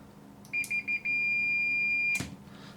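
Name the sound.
Fluke multimeter beeping in continuity mode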